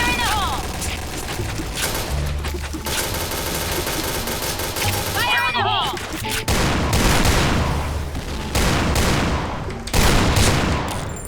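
Rapid bursts of automatic gunfire and explosive shots from the online shooter game Point Blank, loud and nearly continuous, with people talking over the shooting.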